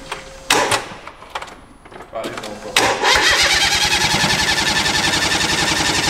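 A built-up turbo Smart car drift machine cranks with a few stuttering attempts, then catches and settles into a loud, pulsing idle up close, with people talking over it.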